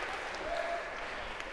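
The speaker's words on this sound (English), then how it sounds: "a round of applause, if we could, for you guys" Lecture hall audience at an algorithms class gives a short round of applause, a dense, even patter of clapping filling the whole moment at moderate loudness.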